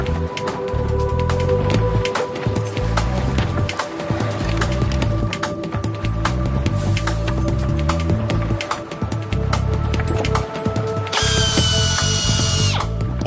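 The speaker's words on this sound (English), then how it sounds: "All this just to drill holes for mounting brackets." An underwater power drill bores holes for mounting brackets on a bridge. It whirs steadily and continuously with rattling mechanical clicks, and a higher whine joins near the end.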